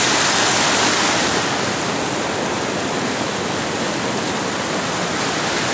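Steady, loud rush of creek water pouring and splashing over and around a crossing log, a dense broadband roar that holds constant throughout with no voices.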